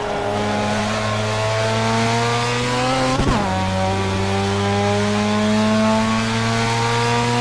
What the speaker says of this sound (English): I'm not bothering to lift the throttle on gear changes, so I'm just flat shifting